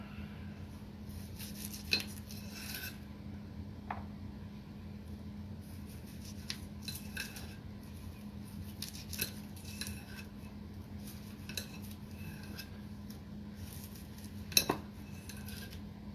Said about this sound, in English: Right now I'm going to put some rice vinegar on my knife just to make sure that I can slice through this really easy.